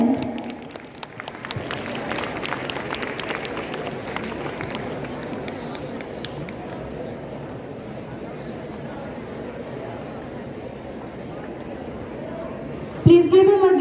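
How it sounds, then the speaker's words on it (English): Audience applause at a school Christmas celebration honoring a top-ranked student, a sustained, moderately distant patter of clapping lasting over ten seconds, stronger at first, with a voice briefly cutting in at the end. "Please give him a big round of applause"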